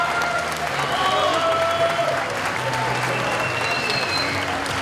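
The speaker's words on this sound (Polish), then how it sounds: "Gorąco brawa dla zawodników" Audience applause for classic men's bodybuilding competitors over 180 cm at a Polish championship semifinal, steady broad clapping filling the hall throughout, with a voice speaking over it.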